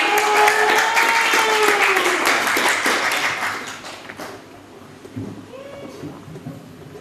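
Audience applause at a stage show, loud dense clapping for about four seconds with cheers rising over it, then fading out to scattered claps and a voice.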